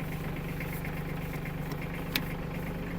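An Iseki TG-29 Japanese mini tractor with 717 engine hours idles just after starting, a steady low mechanical drone close by with one brief sharp click near the end.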